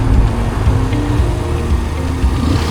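Motorcycle riding along a scenic road through rubber estates on the way to Dehenakanda in Sri Lanka, a steady low engine drone with rumbling wind and road noise throughout, continuous and fairly loud.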